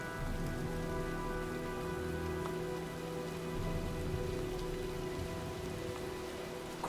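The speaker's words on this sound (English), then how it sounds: "looks like a storm's coming" Steady rain in the video game Heavy Rain, falling continuously and fairly close, with a low musical drone running beneath and no talking.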